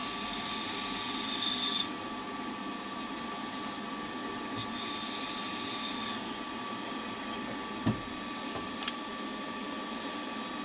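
A drill press runs flat out in low gear, fitted with a 3.3 mm bit to drill holes in metal for a three-axis DRO on a WM16B mill, giving a steady motor whine and hum with a couple of brief clunks.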